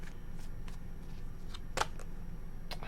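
A deck of tarot cards being shuffled by hand, a handful of soft, brief riffling snaps scattered over a quiet room background with no talking.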